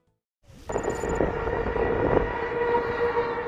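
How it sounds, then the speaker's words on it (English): Tornado warning siren sounding across Tennessee before a twister, a loud sustained wail that starts abruptly and holds steady with a constant droning tone. "The siren warns of a looming tornado."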